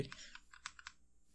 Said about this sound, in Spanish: Si escuchan el teclado más de lo normal es porque en este transcurso del tiempo eh, me compré otro teclado